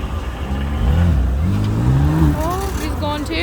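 A car pulls away at a Pakistani independence day gathering in Belfast, its engine rising in pitch over a steady rumble while several people talk nearby.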